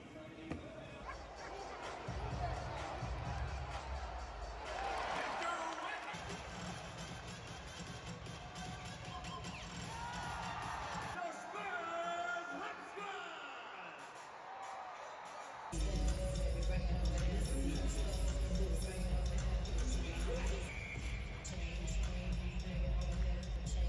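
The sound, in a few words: basketball crowd cheering at game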